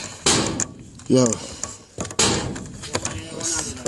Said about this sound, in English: Pull the door, officer.